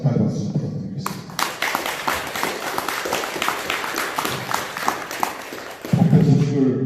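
A Buddhist temple congregation at a dharma service breaks into several seconds of dense, lively clapping, with a voice speaking just before and again as the applause fades.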